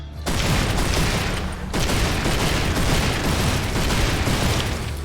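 Rapid, dense gunfire from Serious Sam 4, two sustained bursts of shooting with booming low-end impacts, separated by a brief pause; loud and continuous with no talking.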